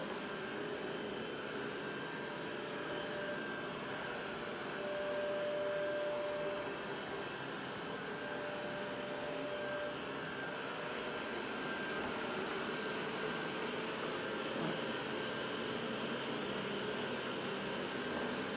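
A steady motor whir with a faint high whine runs throughout, the even drone of a Roborock robot vacuum working nearby, no voices.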